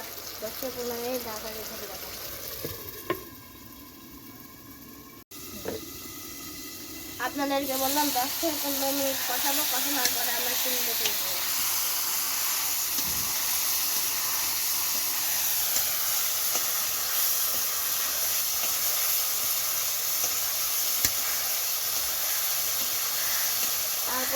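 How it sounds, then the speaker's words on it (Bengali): Curry masala is sautéed (kosha) in a pan with a loud continuous sizzle and hiss that swells partway through, with a voice speaking over it. "আমরা দশ থেকে পনেরো মিনিট কষে নেব"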